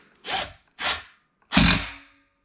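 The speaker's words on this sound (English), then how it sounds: "Okay, drill that one in. Nice and tight." A power drill drives a screw into a computer desk during assembly in three short bursts, the last one longest, each close and loud with quiet gaps between.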